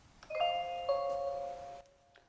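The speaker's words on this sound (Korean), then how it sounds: "추출이 시작될 때도 굉장히 경쾌한 소리가 납니다" A Balmuda The Brew coffee maker plays a bright start chime when brewing begins: a short, moderately soft melodic sequence of ringing electronic tones heard alone, ending in near silence with one faint click.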